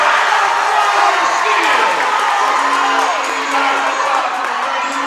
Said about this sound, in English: Crowd erupts.